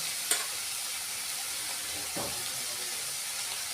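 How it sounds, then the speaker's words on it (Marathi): Chopped onion with turmeric sautéing in a pan for kanda batata poha gives a steady close sizzle, broken by a sharp utensil tap early on and a brief stir scrape midway. "कांदा पण थोडासा परतायचा आणि त्याच्यामध्ये हळद घालायची"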